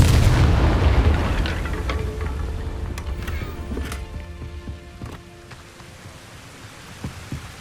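A Confringo fire spell blasts in Hogwarts Legacy, a loud deep boom that rolls off into a long rumbling fade with scattered crackles and debris-like ticks trailing behind.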